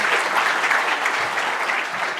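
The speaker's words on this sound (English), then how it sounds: "Please give a round of applause for these 2 guys" Audience at a frontend developer conference in Bucharest giving a round of applause, a dense, even patter of many hands clapping steadily throughout.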